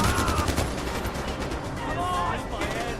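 Rapid gunfire from the open-world shooter Far Cry 4, a dense continuous barrage of shots mixed with game sounds and music, close and loud throughout.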